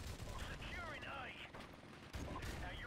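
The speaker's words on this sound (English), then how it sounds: "this M14 that he was using, it had rapid fire on it" Rapid-fire M14 gunfire in the Call of Duty video game comes in quiet, dense bursts mixed with game audio and a voice.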